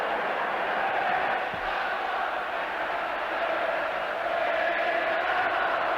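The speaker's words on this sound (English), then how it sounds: "the crowd know this, they're buzzing" A large football stadium crowd at the 1968 European Cup final keeps up a steady, loud roar of buzzing noise, with no breaks and no single voice standing out.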